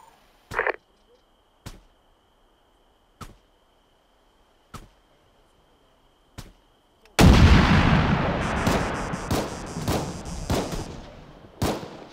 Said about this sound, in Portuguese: Equipe T1 recebendo tiros inimigos aqui.